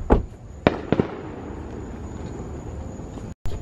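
Epcot Forever fireworks show at Epcot, Walt Disney World, heard from a distance: a few sharp bursts early on, then a low, steady rumble of far-off explosions.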